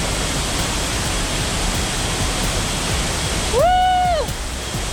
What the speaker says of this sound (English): There's like little waterfalls tucked in the woods and it's great.